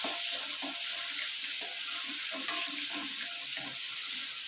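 Onions and green chilies sautéing in oil in a home kitchen while a fish curry is prepared, giving a steady, dense hiss throughout with a few faint clinks and stirring sounds, no voices.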